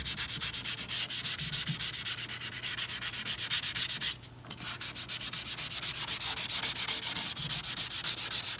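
Hand sanding wood across the grain with fine 220-grit sandpaper, a steady close rhythmic scrubbing of back-and-forth strokes that runs almost continuously, with one brief pause midway.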